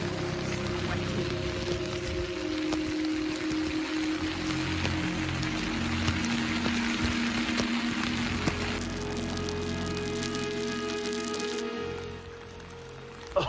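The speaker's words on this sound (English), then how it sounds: "It is hailing on Dartmoor. There is just so much hail." Hail pelting a tent during a hailstorm on a wild camp on Dartmoor, a dense, continuous drumming patter that stays loud and steady throughout, close to the fabric with no talk.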